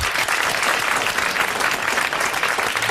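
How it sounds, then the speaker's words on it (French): Studio audience applauding a prize winner on a 1982 French radio quiz show, a dense, steady wash of many hands clapping for the whole stretch at close, even loudness. "Vous l'applaudissez."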